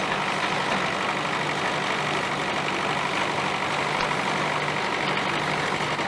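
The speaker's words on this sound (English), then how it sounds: "There's an ideal opportunity to see the trash being blown away by the blower or the fan" A threshing machine's blower fan blasting away trash at a vintage threshing event, heard as a steady loud rumbling roar with engine drone that holds throughout.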